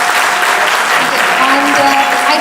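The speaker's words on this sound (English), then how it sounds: "Please give them a round of applause." Loud, dense audience applause fills a hall at an interactive session, steady clapping from many hands with a voice faintly under it.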